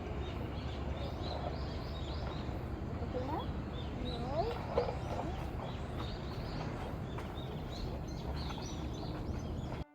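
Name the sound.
birds singing in trees in the countryside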